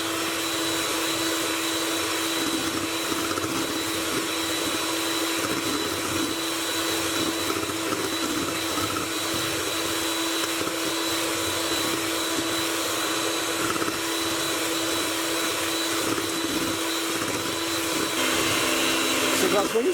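An electric mixer whips meringue with sugar for Christmas buttercream macarons, a loud, steady high-pitched motor whine running continuously with no pauses.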